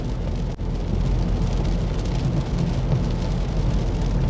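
Heavy rain drums steadily on a car while driving through flooded lanes, a dense continuous roar with a brief dip near the start and no talking.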